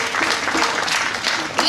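An audience at a Kwanzaa celebration at a spiritual center breaks into brief, dense applause, many hands clapping together in a steady, loud wash.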